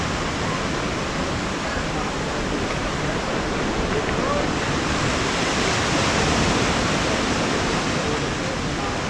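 Waves wash onto the beach at Las Caletas near Puerto Vallarta, Mexico, a steady, loud broadband rush of surf that continues without a break.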